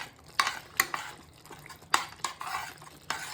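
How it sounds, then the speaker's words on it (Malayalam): A spoon scrapes and knocks around a pot in quick irregular strokes, stirring chilli powder into curry over faint sizzling, close and fairly crisp. "ഇത് നന്നായിട്ട് ഇളക്കാം, മിക്സ് ആക്കാം."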